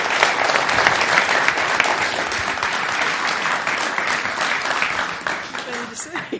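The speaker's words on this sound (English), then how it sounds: "I think a big round of applause is in order" Conference audience at an evening symposium session gives a dense, sustained round of applause filling the room, with voices talking over and through it as it begins to fade.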